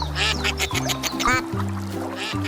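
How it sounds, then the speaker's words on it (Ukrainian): Two ducks quack back and forth in a short, lively burst, with several clear, close nasal quacks following each other quickly. "Дві качечки плавають."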